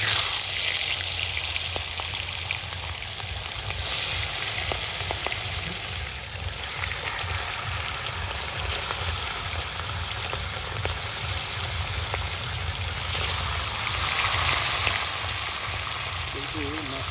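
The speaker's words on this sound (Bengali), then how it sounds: "এবার মাছ ভাজা হচ্ছে, তার জন্য মাছ দিয়ে দিচ্ছি" Fish frying in oil on a village cooking fire, a continuous loud hissing sizzle like rain that holds steady throughout, with faint background sounds.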